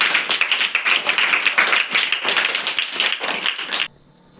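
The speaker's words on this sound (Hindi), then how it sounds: "तो जोरदार ताली बजाइए।" Loud, dense applause from a school audience at a safety programme, many hands clapping steadily for nearly four seconds before stopping abruptly.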